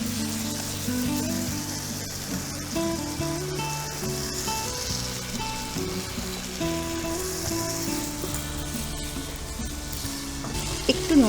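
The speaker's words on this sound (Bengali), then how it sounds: "চিকেনটা কষানো হচ্ছে।" Chicken sautéing in a pan for malai chicken, with ground cashew, almond, cardamom, cinnamon, poppy seed and green chilli, sizzles steadily with occasional stirring scrapes, moderately loud and close, with no talking.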